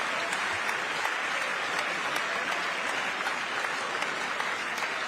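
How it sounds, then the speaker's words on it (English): Members of Congress, including the justices, applaud during a presidential address to Congress: sustained, even clapping from a large crowd in a big chamber, steady and unbroken for the whole stretch with no talk. "Even the justices are clapping."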